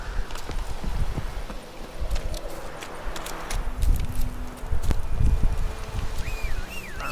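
Roach the horse's hooves in The Witcher 3, a run of clip-clop footfalls at a walking pace, near and moderately loud, over rustling and occasional faint in-game sounds.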